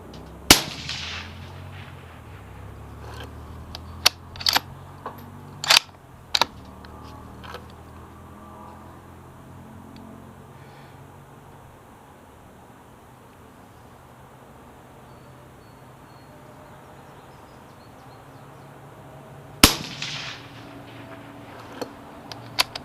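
A Howa 1500 mini action rifle chambered in 6mm ARC fires at an outdoor range, with sharp, loud reports. A few shots come in quick succession early on, then a long quiet stretch before two more shots near the end.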